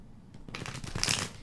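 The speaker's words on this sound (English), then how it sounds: "This deck is like so hard to shuffle" A stiff deck of tarot cards is riffled and shuffled by hand, a close papery flutter that builds to a dense burst of card slaps and then fades.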